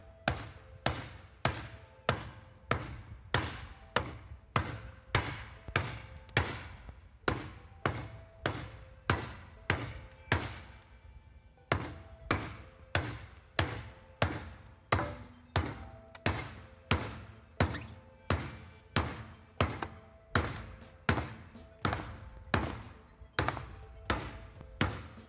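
A homemade short sword chops into a tree in a steady run of sharp, evenly spaced thunks, about two per second, heard close and alone.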